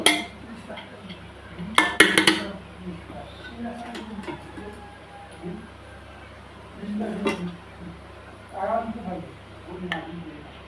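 Metal spoon scraping and clinking against a cooking pot as spices are mixed into meat, in a few bursts with quieter gaps, close up.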